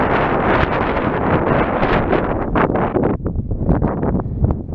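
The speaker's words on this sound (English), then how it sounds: "the wind's picked up a bit" Strong wind at a campsite roars steadily across the microphone, buffeting with gusts and rustling for the whole stretch, loud and close, with no voices.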